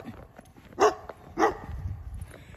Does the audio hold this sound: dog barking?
yes